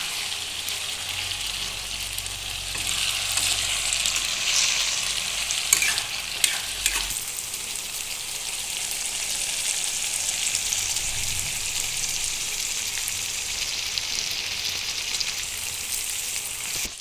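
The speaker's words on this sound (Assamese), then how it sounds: "আলুখিনিও প্ৰায় 5 পৰা 10 মিনিট সময় ফ্ৰাই কৰিম মাংসখিনিৰ লগতে।" Potatoes fry together with chicken pieces in a pan for chicken curry, giving a constant busy sizzle. A few stirring scrapes come through partway, and no one talks.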